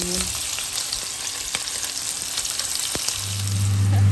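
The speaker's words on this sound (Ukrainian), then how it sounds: "До тієї самої олії чесничної, з чесником, де смажилися креветки, кладемо мідій, додаємо трошки вершкового масла." Mussels and butter frying in garlic oil left over from cooking shrimp, a steady close sizzle and crackle throughout with a few stirring clicks, swelling slightly louder near the end.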